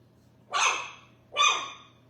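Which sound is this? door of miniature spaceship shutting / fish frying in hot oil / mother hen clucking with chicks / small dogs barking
small dogs barking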